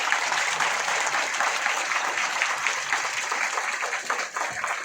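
Loud, dense applause from a large audience at a community gathering in Vadodara, Gujarat, people clapping for themselves in a steady unbroken wash that dips briefly near the end.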